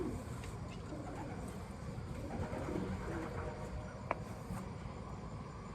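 Soft, low cooing of racing pigeons drifts in from a distance over a steady background hum, quiet and continuous with no talking.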